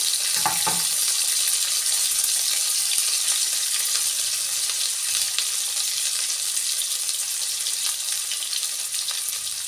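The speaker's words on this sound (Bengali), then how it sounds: "ওই তেলে লম্বা লম্বা করে কেটে রাখা আলুটা কেটে নেব গাজর দিয়েছি তার সঙ্গে" Long-cut potatoes and carrots sizzle steadily in hot oil, a loud, continuous close frying hiss with a few brief knocks at the start and no talk.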